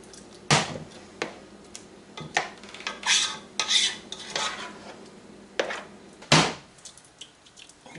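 Meatballs stirred in marinara sauce in a cooking pot: a spoon scrapes and clinks against the metal in irregular close knocks and rattles, with soft sloshing between the louder taps.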